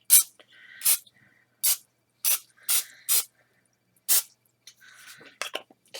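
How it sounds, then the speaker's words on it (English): Short bursts of non-stick cooking spray onto plastic wrap, about eight quick hissing puffs with pauses between, close by and clear with no talking. "And I want to spray it with the spray,"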